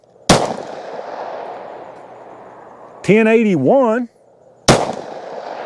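Two sharp, loud Glock 27 pistol shots fired over a chronograph, spaced several seconds apart with ringing decay, and a voice reads out a number between them.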